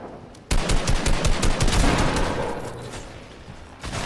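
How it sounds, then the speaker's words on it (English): A shotgun fires in Fortnite, a loud, close burst of rapid blasts that rolls into a dense rattle before tapering off, with no talk over it. "Shotgun."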